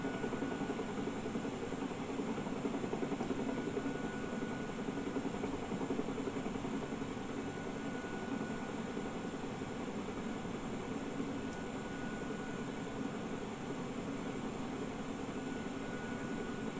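Steady droning rotor and engine noise from a Huey helicopter in a video game flight simulator, holding level and moderately quiet throughout with no talking.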